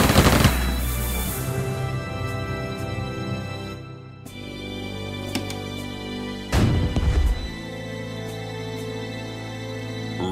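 Sustained gunfire in a World War II strategy game, Strategic Mind: Blitzkrieg, with dense overlapping shots and explosions, a brief lull near the middle, then a loud burst of blasts before the battle noise settles back.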